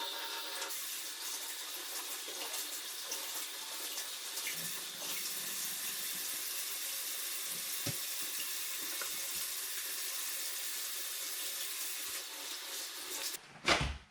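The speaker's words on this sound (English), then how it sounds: "I'm gonna go wash my hands." A kitchen tap runs steadily for hand washing, a constant hissing stream close by that stops abruptly near the end with a brief clatter.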